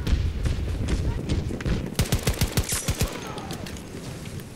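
Pistol fire in Battlefield 2042 cracks out in a quick run of about eight evenly spaced shots, close and punchy, following a stretch of busy battle noise, with talking over the game audio.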